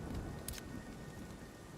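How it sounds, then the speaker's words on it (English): Hail pelts down in the survival game Nightingale as a dense, steady rattling wash of noise with a brief brighter burst of impacts, no speech over it. "Oh, it's hailing."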